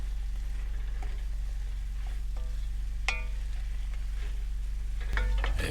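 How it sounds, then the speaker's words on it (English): Chili ingredients with chili powder cooking in a pot outdoors during cold-weather truck camping, a soft steady sizzle under a constant low hum, with a few faint clinks and a louder stir near the end. "Last up, 2 tablespoons chili powder. We're going to cook this for about 2 minutes."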